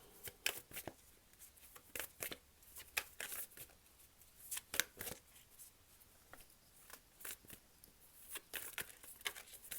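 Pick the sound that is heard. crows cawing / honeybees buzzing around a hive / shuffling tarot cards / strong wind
shuffling tarot cards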